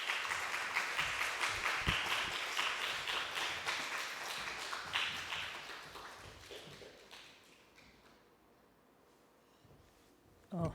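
Audience applause at a Korean church Sunday worship service welcomes a pastor to the stage: a dense, steady roar of many hands that gradually thins and fades out after about seven seconds, followed by a quieter pause.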